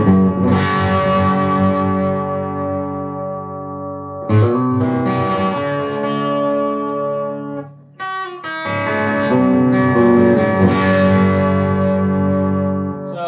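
An electric guitar plays through a Bogner Helios 100W head in 70s mode, giving classic Plexi-style crunch: loud sustained chords and ringing notes in phrases, with a brief dip before a final strummed passage.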